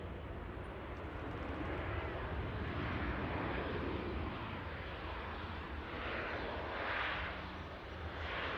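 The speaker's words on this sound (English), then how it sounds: "Nice landing there from the Ryanair 737." A Ryanair Boeing 737 touches down on runway 23 right at Manchester Airport, a steady broad roar of jet engines and rushing air heard from a distance, swelling slightly toward the end.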